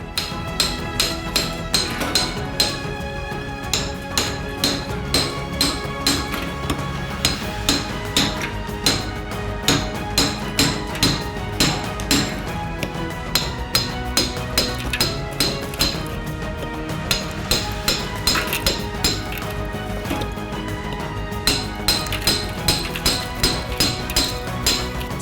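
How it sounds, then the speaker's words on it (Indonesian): A hammer and axe break ice blocks into small pieces for a fruit ice cream street food stall. Loud, sharp, clinking blows repeat in quick, steady bursts throughout, with no talking. "Gunakan kapak dan palu, kita bagikan balok-balok ini menjadi potong-potongan kecil."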